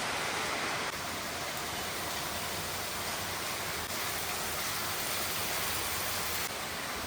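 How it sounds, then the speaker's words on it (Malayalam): Heavy rain falls outside a home, a dense, even hiss that holds steady and fairly loud for the whole stretch, with no voices. "പുറത്ത് നല്ല മഴയാണ് ഇപ്പോൾ"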